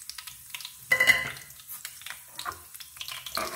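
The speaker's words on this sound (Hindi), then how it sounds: "तेल गर्म हो गया, हुण असी मेथरे पावांगे। मेथरे नूं असी लाल कर लाँगे, नाल ही असी जीरा पा देंगे" Fenugreek and cumin seeds frying in hot oil for daal, a crackling sizzle with stirring and light clatter of a pan, near and steady with a sharper burst partway through.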